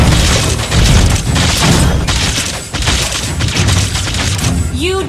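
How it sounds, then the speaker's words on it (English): A turret being destroyed in Mobile Legends: dense, loud booming explosions and battle impacts roll on continuously, with a synthesized tone rising near the end. "You destroyed a turret!"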